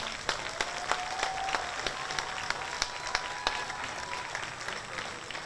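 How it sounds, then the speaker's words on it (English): Crowd applause at a high school football game honoring local everyday heroes, with steady distant clapping spread across the stands and occasional sharper claps, no talk. "please join us in a round of applause for these everyday heroes."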